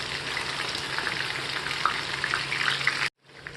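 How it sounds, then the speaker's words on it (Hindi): Fish pieces fry in a pan of oil with a soft, steady sizzle and faint crackles, cutting out abruptly near the end before a quieter hiss returns. "अब इसको हम पलट देंगे और दूसरी साइड से भी करीब 3 मिनट इसको फ्राई कर लेंगे।"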